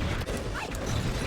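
A short mechanical creak and groan, loud and close, like metal flexing under a sudden weight, as a car is landed on in a video game.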